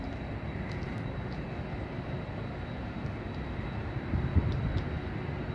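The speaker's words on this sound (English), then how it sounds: "Looks like there's an airplane coming in to land right now." An Atlas Air airplane flying over while coming in to land, a low, steady engine roar that swells slightly near the end, heard at a moderate distance outdoors.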